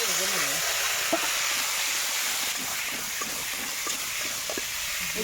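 Potatoes fry in hot oil with a steady, broad sizzle and hiss, close and fairly loud, while a voice speaks faintly over it.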